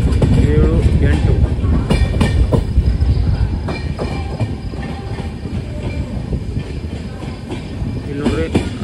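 The 20654 Belagavi to Bengaluru superfast express rolls through a railway station platform with loud, steady rumbling and clickety-clack wheel rhythm, with faint background voices around it.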